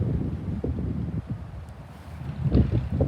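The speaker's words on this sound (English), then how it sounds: "Also very windy" Wind buffets the microphone outdoors in a garden with low, uneven rumbling gusts, growing stronger near the end, with no one speaking.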